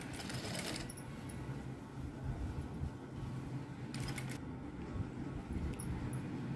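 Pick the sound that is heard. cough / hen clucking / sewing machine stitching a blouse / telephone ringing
sewing machine stitching a blouse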